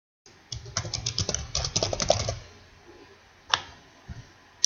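Keys clatter on a computer keyboard in a quick burst of typing, then stop, followed by a few isolated clicks; close, fairly quiet, with no talking.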